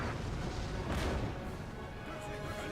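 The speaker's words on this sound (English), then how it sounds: "And the cannon is also firing" Cannon fire in a 3v3 Napoleonic battle video game rumbles as a dense, continuous wash of booms and crashes, with one stronger blast near the start amid the ongoing battle din.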